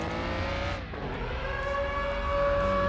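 A car engine in the online street-racing video game Tuning Club Online races at high revs, a loud sustained whine that dips briefly as the gear changes, then holds steady and grows louder.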